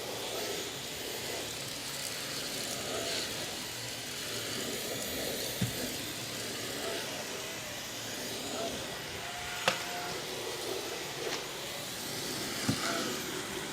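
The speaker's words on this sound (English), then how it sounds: "You can hear it picking up the dirt, but it's doing almost no agitation whatsoever" A Samsung Jet60 cordless vacuum runs steadily on carpeted stairs, a continuous broadband hiss with faint clicks and bumps, moderately loud and heard alone.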